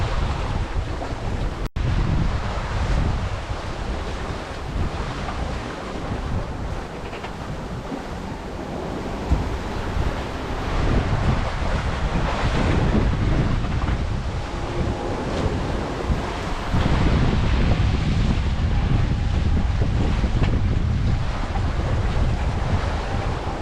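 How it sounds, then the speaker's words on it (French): Sea waves on the Côte d'Azur coast in France wash and break continuously, loud and close, mixed with gusty wind noise and no talking. "Constater qu'il y a une fois de temps en temps de belles vagues"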